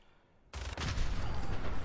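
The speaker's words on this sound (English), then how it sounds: "I'm just going to go for a headshot." Gunfire erupts in Fallout 4, a sudden loud blast after near silence followed by a dense, sustained roar of shots and booms.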